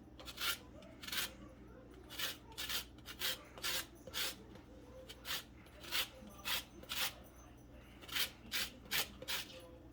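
A lemon is rasped across a metal grater in short, even strokes, about fifteen crisp scraping bursts in a steady rhythm, close and clear over a quiet room.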